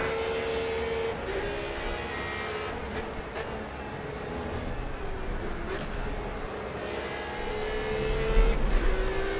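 A Radical SR3-RS race car at Imola in Project Cars roars steadily under acceleration, a continuous close engine drone with shifting pitch and other cars around, swelling louder toward the end.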